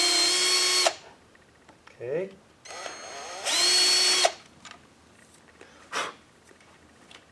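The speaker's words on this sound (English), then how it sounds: "Use your little drill on high speed, and go ahead and make that hole." A small power drill spins at high speed boring a rivet hole in a muffler logo plate, two loud whining bursts of under a second each, separated by brief speech and handling clicks.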